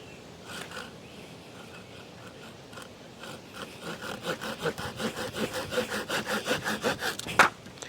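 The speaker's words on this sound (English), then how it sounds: "I'm going to take the Dollar Tree saw and we're going to try to cut through this branch" A Dollar Tree folding saw cuts through a half-inch tree branch in close, rhythmic rasping strokes that start slow and grow quicker and louder, ending in a sharp snap.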